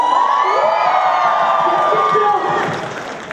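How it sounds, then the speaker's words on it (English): An indoor crowd at an Indian cultural night cheers and whoops for Gladwin and his group, with loud overlapping shrieks and shouts that fade out near the end. "may I have a cheer for Gladwin and group"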